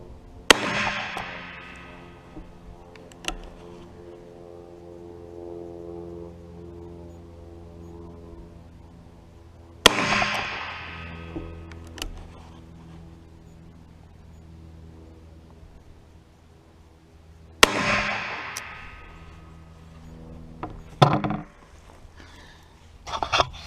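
Three loud, sharp gunshots from a Taurus .44 Magnum revolver, fired at a range while sighting in for deer hunting, spaced about ten seconds apart with ringing decay, followed by a fainter fourth bang near the end.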